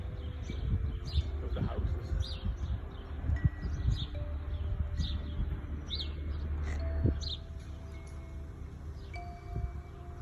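House sparrows chirp in short, repeated bursts around flats and houses near a marina on the Isle of Wight, moderately near over outdoor background noise, with a brief spoken phrase.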